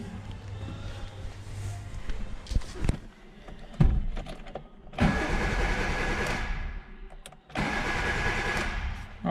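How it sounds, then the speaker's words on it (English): A Kia Picanto 1.0 petrol engine with a faulty crankshaft position sensor cranks repeatedly in long whirring bursts separated by pauses, never catching, loud and close. "you can notice that when I crank the engine, the RPM is not moving."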